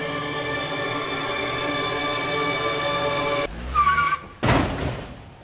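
A car swerves, skids and crashes into a post: a steady droning hum gives way to a short, sharp tire squeal, then one loud, close impact burst that fades quickly.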